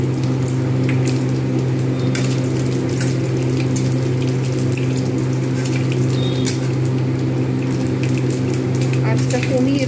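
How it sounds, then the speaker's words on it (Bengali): Bay leaf, dried red chili and whole cumin frying in hot oil in a home kitchen, a steady loud sizzle with crackle running the whole time beneath a constant background hum. "ফোড়ন প্রথম দিয়ে দিলাম, তারপরে তেজপাতা, শুকনো লঙ্কা আর গোটা জিরে"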